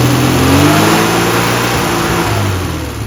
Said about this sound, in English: So it's only when you rev it